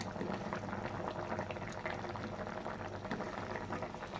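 Small hilsa fish curry with taro, potatoes and tomato bubbles in a pot, a dense, steady boiling crackle held close throughout.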